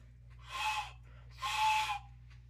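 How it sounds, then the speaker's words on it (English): Two breathy, airy whistle blasts, each about half a second long with a pause between, close and fairly loud over a low steady hum. "my first time blowing in a train whistle"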